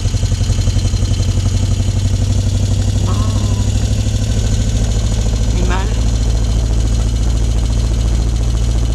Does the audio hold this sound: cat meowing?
no